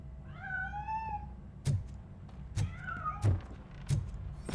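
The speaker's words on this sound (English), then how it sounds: "That cat must be hiding inside." A cat meows twice with drawn-out, wavering cries in the video game Robocop: Rogue City, followed by a series of loud, evenly spaced thuds.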